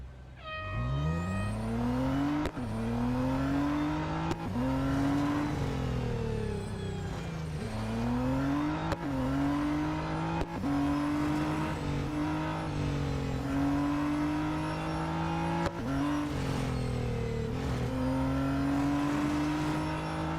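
Race car engines from the Real Racing 3 video game roar through an autocross run, a loud continuous whine rising and falling in pitch as gears shift repeatedly, with no talking.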